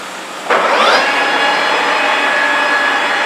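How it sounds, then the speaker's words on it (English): A SIRCO 40 by 85 inch manual lathe starts its main motor and spindle, kicking in suddenly and spinning up into a loud, steady electric hum and whine that holds on unchanged. "start main motor."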